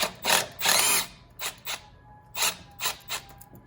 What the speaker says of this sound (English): Now we have to remove this 11 millimeter nut right here.